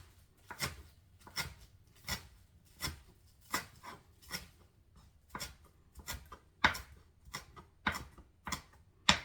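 Knife chopping green onions on a cutting board at home, around fifteen crisp, fairly regular close knocks with short pauses, alone without talk.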